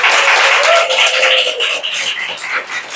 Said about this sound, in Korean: 박수로 한번 환영해 주시죠